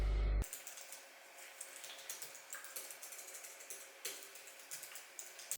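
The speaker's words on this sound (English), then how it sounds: "I'm not really a big fan of mechanical keyboards, so this one's perfect when I'm typing." Rapid, soft clicks of keys on a non-mechanical computer keyboard, tapping in a quick irregular rhythm, close and quiet.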